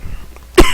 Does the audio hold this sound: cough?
yes